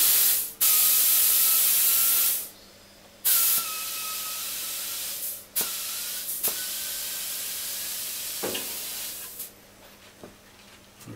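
Air hisses loudly into a tubeless bicycle tire during inflation. Strong bursts of rushing air come and go, broken by clicks and short pauses, and one long steady hiss runs through the middle, close and with no talking.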